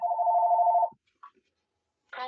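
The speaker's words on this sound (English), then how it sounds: "Sorry, my phone. Hold on one second." A phone rings with one sustained electronic trill that cuts off sharply, followed by a brief pause and a start of another tone, all fairly close and with no talk.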